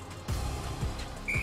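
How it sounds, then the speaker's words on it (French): A referee-style whistle gives one brief, steady, shrill blast near the end, over a faint low background murmur. "Coup de sifflet."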